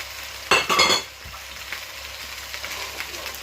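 Bacon, onions and celery sizzle in a pan, a steady soft crackle broken early by a brief louder burst of stirring and a low knock against the pan.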